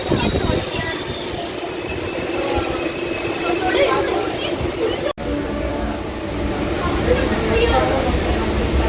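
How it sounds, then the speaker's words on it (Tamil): A train departs a Chennai station, rolling along with a loud, continuous rumble and clatter of wheels, a brief squeal, and a voice speaking over the noise. "கிளம்பிடுச்சு ட்ரெயின்."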